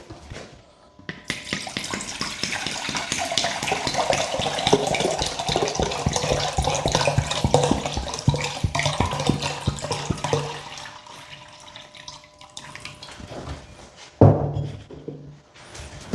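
Water is poured into a pickle marinade in a steady splashing stream for about ten seconds, then fades to a thinner trickle before a brief louder splash near the end. No one speaks.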